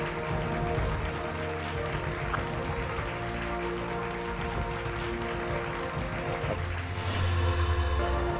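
An audience at a Bhojpuri award ceremony applauds to honour a guest, with steady, dense clapping that fills the room and swells slightly near the end, layered over a sustained musical backdrop and no talking.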